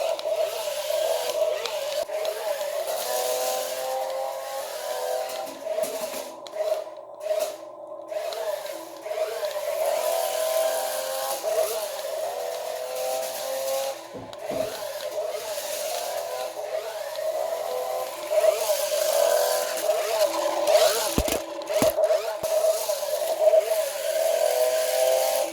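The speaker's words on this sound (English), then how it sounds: "Who doesn't like a nice burnout?" An AONGAN remote control car spins in a burnout, its small electric motor giving off a steady, buzzy whine that wavers and surges, close by, with scattered scuffing noises.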